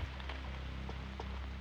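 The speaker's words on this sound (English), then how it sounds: "I think it's the rain." Steady rain in a Roblox video game, a continuous close hiss of drops patters evenly with a low rumbling undertone and no other sounds.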